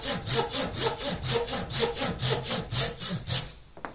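A Husqvarna pruning saw cuts through wood in steady, rhythmic back-and-forth strokes, about three per second, loud and close, stopping abruptly near the end.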